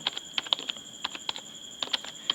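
Computer keyboard typing in quick irregular bursts of crisp clicks, close and clear, with short pauses between keystrokes as JavaScript code is entered; no one speaks.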